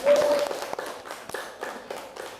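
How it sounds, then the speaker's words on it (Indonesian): Students in a physics class on global warming applaud a winning group, a run of quick overlapping hand claps close by that gradually thins out, with brief voices underneath. "Tepuk tangan untuk kelompok ini."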